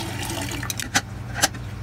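RO water pours into a holding container during dosing pump setup for a reef aquarium, a steady close trickling and filling sound with a couple of soft clunks.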